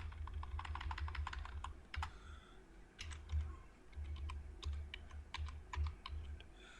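Quick, quiet keystrokes on a computer keyboard come in bursts with brief pauses as text is deleted and retyped in a web address field, close up and with no voices.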